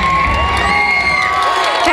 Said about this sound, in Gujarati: ભાઈ એમની બર્થડે છે એટલે ફરીથી એક વખત તાળી.